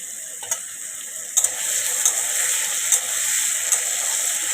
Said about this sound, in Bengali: আলুটা ফ্রাই করে নিব তেলের মধ্যে